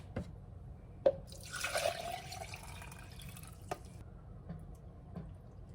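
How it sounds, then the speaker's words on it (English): Vinegar and water are poured into a pickling jar holding peppercorns and garlic, giving a brief gurgling pour with a few drips and small knocks, faint and close in a quiet kitchen. "We're going to add our vinegar,"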